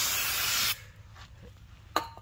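An alcohol brake cleaner sprayed onto a front brake rotor of a 2015-2020 Chevy or GMC full-size SUV, a loud close hiss lasting under a second, then quiet with faint clinks and a short sharp spray burst.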